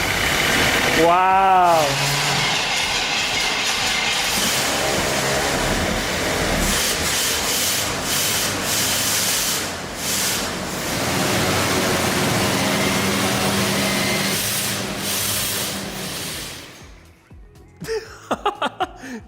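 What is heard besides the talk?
barn find Corvette Stingray engine starting and running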